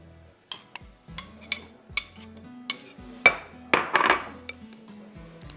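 Spoon scraping and clinking against a pot while yogurt is mixed into a chicken dumpukht biryani mixture, a series of close, uneven knocks and scrapes growing busier toward the end.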